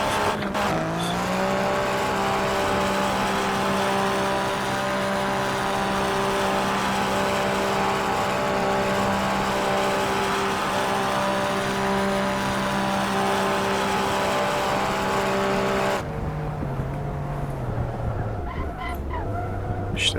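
Alfa Romeo Giulia Quadrifoglio engine in the racing game Assetto Corsa, holding a loud, steady drone for a long stretch, then dropping sharply and rising again as revs shift near the end.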